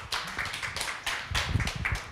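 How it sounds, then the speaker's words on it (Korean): Audience clapping at the close of a public lecture in a hall, close, uneven claps from a small group in short irregular bursts. "큰 박수 부탁드립니다."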